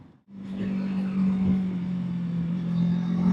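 Kawasaki Versys 650 motorcycle engine holding a steady, droning high-rev tone with a strong low hum after a brief silent gap at the start, continuous and fairly close.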